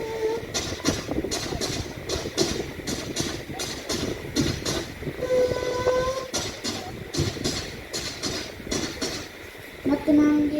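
A voice imitates a train passing under a bridge, with a rhythmic chugging clatter and short horn-like hoots, loud and close, performed at a school cluster talent event.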